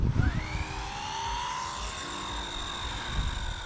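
A Blade 150fx RC helicopter spools up for takeoff on a calm morning, the rotor whine rising in pitch and settling into a steady hum, with a short thump at the very start.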